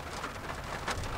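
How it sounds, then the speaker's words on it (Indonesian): Steady rain drums on the roof of a Chery Omoda 5 RZ, a dense, even patter of drops heard from inside the cabin with no talking. "Untuk di atap sih memang suara hujan tuh kedengeran"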